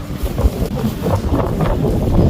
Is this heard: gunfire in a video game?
no